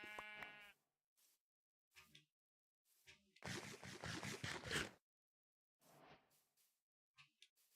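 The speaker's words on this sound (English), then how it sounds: "Was that the only sheep around here?" Sheep bleating in Minecraft: a short, wavering bleat opens, followed by scattered scuffs and one longer rough, noisy burst midway, with faint brief sounds between quiet gaps.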